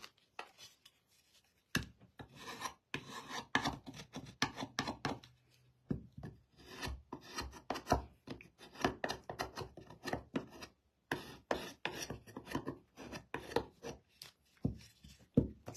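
Scraper dragged across wood for a butterfly wood craft kit, heard as close, quick rasping strokes in irregular bursts with brief pauses, no talking.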